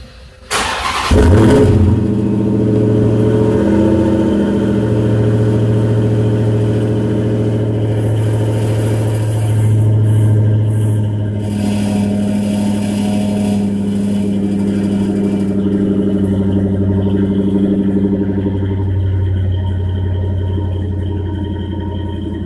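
A Dodge Hellcat with a new active exhaust cold-starts: a brief starter whir, then the engine catches with a loud flare and settles into a steady, deep idle that rumbles on close by.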